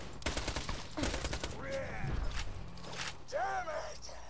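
Rapid bursts of gunfire from the video game Borderlands 2 crack out repeatedly, mixed with whooshing game effects over a busy, continuous soundtrack.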